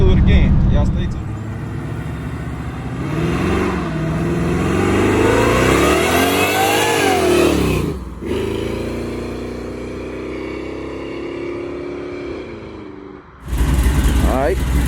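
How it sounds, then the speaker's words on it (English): A supercharged Cutlass engine rumbles and revs loud and close, the pitch climbing and falling through throttle sweeps, with a brief dip before it settles into a steady cruise drone. "I love how mellow the car sounds"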